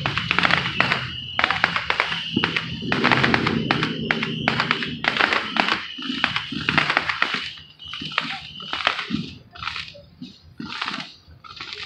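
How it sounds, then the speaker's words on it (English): Fireworks at Gratiot Park in Port Huron, heard as dense, sharp crackling pops in rapid irregular bursts that thin out toward the end. "This Port Huron fireworks, but it's Gratiot Park fireworks."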